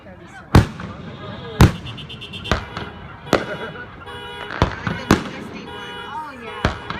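Fireworks burst over the water off Balboa Pier during a boat parade, about eight loud booming explosions at irregular intervals with crackling and whistling between them, while people chat nearby.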